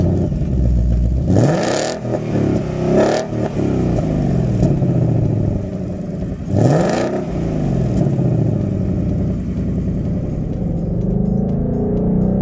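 A 2020 Ford Mustang GT's 5.0-liter Coyote V8 idles with a loud, deep rumble, then blips through two sharp revs that swell and fall away, heard up close.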